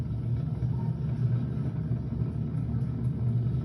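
A SpaceX Falcon 9 rocket climbs past Mach 1, heard as a steady, dense low rumble that stays at an even level throughout, with no voices breaking through.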